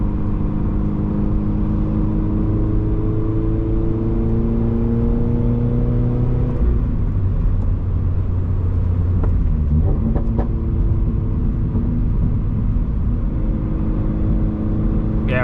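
Second-generation Subaru BRZ engine droning steadily from inside the cabin while cruising in the higher gears, a continuous low hum whose pitch rises, falls and shifts with gear changes and light braking.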